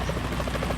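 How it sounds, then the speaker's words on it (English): A helicopter in the video game Metal Gear Solid 2, heard during a rainy ship level, gives a brief, steady rotor thrum with a dense buzzing wash of noise. "Is that a chopper I just heard?"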